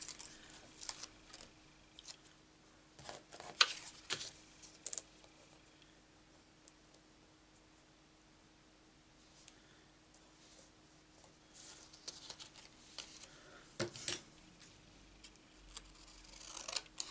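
Scissors snipping thick white material off a pair of flowering rain boots, sparse close clicks and short bursts of cutting scattered over a quiet background, with long pauses between snips.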